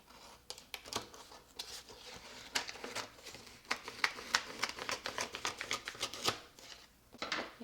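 Scissors snip through glitter vinyl paper being trimmed to cover a Bible, a close series of crisp irregular cuts that quicken into rapid bursts.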